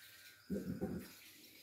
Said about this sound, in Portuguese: Ela pode ouvir o barulho da água do tanque.